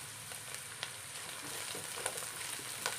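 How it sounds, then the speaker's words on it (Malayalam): Crushed ginger, garlic, green chilli and curry leaves sauté in a pan for tomato rice, giving a steady close sizzle with scattered sharp pops and crackles throughout. "നമുക്കൊന്ന് വഴറ്റിയെടുക്കാം."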